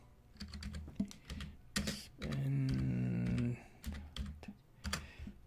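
A computer keyboard being typed on in bursts of quick clicky keystrokes, with a short stretch of a voice speaking in the middle and pauses between volleys of keys.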